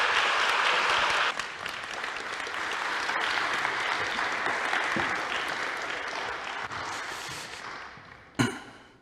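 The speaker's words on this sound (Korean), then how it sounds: "우리 박수로 환영해 주시기 바랍니다" A church congregation bursts into sustained applause to welcome a visiting guest preacher at a Sunday service, the clapping loud and dense for most of the stretch before easing off, with one sharp louder clap near the end.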